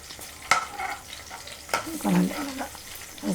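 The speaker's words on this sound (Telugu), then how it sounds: "ఇందులోనే పొట్లకాయ ముక్కలు వేసేసి వేపిద్దాం" Snake gourd pieces tossed into a pan with frying green chillies for a curd chutney, with sizzling, scraping stirs and a couple of sharp clinks, close and moderate in level, with no talk.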